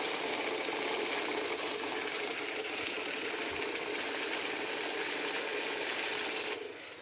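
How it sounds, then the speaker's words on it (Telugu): A heavy-duty cash counting machine whirs steadily as banknotes are fed straight in and counted, a continuous mechanical flutter that stops abruptly near the end. "మిషన్ ఆన్ చేయగానే ఎలాంటి బటన్ ప్రెస్ చేయాల్సిన అవసరం లేదు డైరెక్ట్ నోట్స్ లోడ్ చేస్తే సరిపోతుంది"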